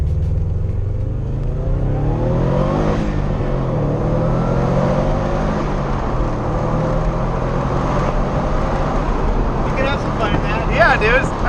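A turbocharged Evo 3 with big turbo, ethanol fuel, stock exhaust manifold and downpipe, no boost controller, accelerating hard through rising gear pulls with a steady loud engine drone, heard from inside the car under voices.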